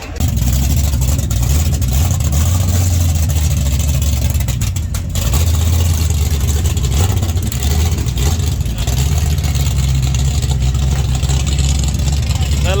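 Car engine topped with a supercharger blower idling loudly with a deep steady rumble throughout, close by, with someone talking over it at times.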